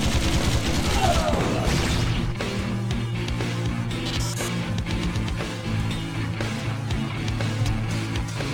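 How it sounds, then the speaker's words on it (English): Turrets in the Iji video game fire a steady, dense stream of gunshots that runs continuously throughout, moderately loud over a low droning game backdrop. "Set up some turrets here, specifically set to target humans."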